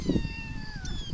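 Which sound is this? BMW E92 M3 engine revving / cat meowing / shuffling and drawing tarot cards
cat meowing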